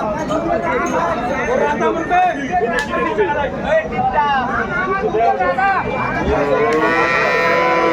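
Cattle at the Aftabganj livestock market in Dinajpur, with dairy cows and calves for sale, lowing repeatedly with drawn-out moos that rise over a loud, constant babble of a crowd talking and bargaining nearby.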